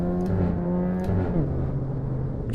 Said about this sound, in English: If you get off the gas, the car makes a weird noise.